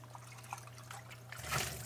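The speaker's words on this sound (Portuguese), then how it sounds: "Então já vem para a água corrente" Fish is rinsed under running tap water in a restaurant kitchen, a faint trickling stream that grows louder and splashier near the end, with no talk.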